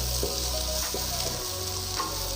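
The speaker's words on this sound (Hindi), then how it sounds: "हम लोग साथ ही वेजिटेबल्स फ्राई करेंगे अपनी" Cabbage, capsicum and carrots frying in a hot pan, giving a continuous loud sizzle with a few stirring scrapes and shifts, close and without speech.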